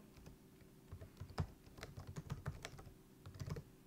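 Fingers type on a computer keyboard at a desk, a close run of quick, light key clicks in uneven bursts, with a few heavier taps, and no voices.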